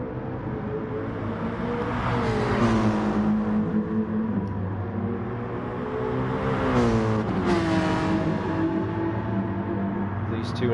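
Mercedes AMG and Porsche race cars battle at Le Mans, their engines revving and shifting with rising and falling pitch as they pass close by, under steady commentary.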